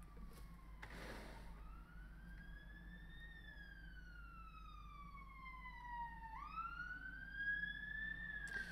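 An ambulance siren wails past outside, its rising and falling tone sweeping steadily for several seconds against a low background hum, fairly distant and unaccompanied by talk.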